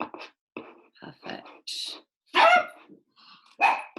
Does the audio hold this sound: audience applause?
no